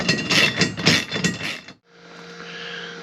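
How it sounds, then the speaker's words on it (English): Long threaded lock nuts on a custom roof rack are wrenched tight by hand, with a cluster of close metallic clicks and knocks that stop abruptly, followed by a quiet hum. "I'm just getting all these tightened up now"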